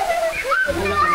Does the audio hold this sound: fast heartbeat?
no